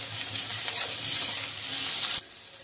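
Potatoes and carrots fry in a pan with a steady, close sizzle and faint stirring, then cut off abruptly to a quieter hiss.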